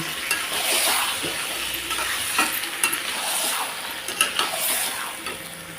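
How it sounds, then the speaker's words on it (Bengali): Mutton sizzles in a pan with garlic and spices as it is stir-fried, a continuous frying hiss broken by repeated scraping and clinking strokes of a utensil against the metal. "এখন সব দিয়ে মশলা দিয়ে ভালোভাবে মাংসটাকে কষিয়ে নেব"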